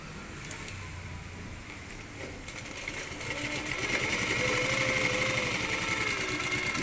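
Electric sewing machine stitching small, tight stitches, a fast steady mechanical whirr that starts softer and grows louder and denser halfway through, heard close and alone.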